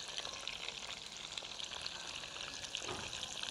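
A partridge fries in oil over low heat, producing a soft, even crackling sizzle with scattered tiny pops, steady and close throughout.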